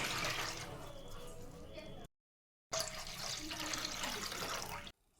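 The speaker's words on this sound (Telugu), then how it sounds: "ఇప్పుడు పక్కన కడాయి పెట్టుకొని ఇందులో టూ గ్లాస్ వాటర్ వేస్తున్నానండి" Two glasses of water pour steadily into a kadai in two bursts separated by a short silence, a continuous splashing rush up close.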